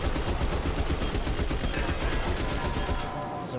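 Rapid continuous gunfire from a magazine dump in the video game Killing Floor 3, a dense unbroken stream of close, loud shots that tapers off right at the end.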